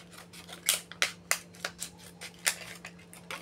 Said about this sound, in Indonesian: kita gunting dua-dua